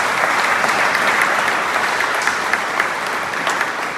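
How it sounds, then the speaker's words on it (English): An audience at a mayoral inauguration in the Royal Borough of Greenwich, London, applauds stroke charity volunteers with sustained, dense clapping that stays loud and even throughout. "A big applause for them as well."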